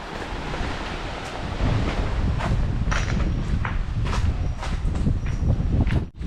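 Sea waves surge and wash below a rocky cave at Cape D'Aguilar, Hong Kong, a continuous roar with sharper splashes breaking through, plus buffeting wind on the microphone.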